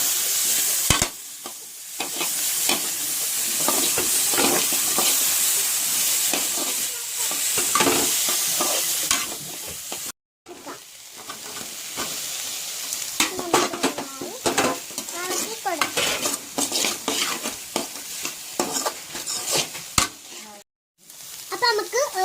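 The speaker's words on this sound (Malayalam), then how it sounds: "കരിവേപ്പില, മുളക് നമുക്കൊന്ന് ഇളക്കി കൊടുക്കാം." Curry leaves and chili stirred and frying in a pan for samosa masala, a steady loud sizzle with repeated scraping and clinks of the spoon against the pan, broken by two brief pauses.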